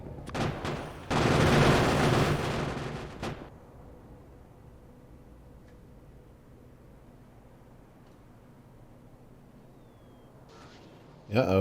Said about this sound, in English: The cannon shots must have made them mad.